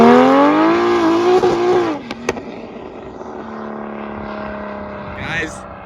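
Single-turbo BMW F80 M3 engine revving hard, rising in pitch then cutting off sharply with a couple of pops, settling into a lower idle hum while people talk nearby.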